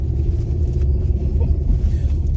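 A steady low rumble fills a car interior, constant and moderately loud with no voices and no distinct events, just the even drone of the cabin.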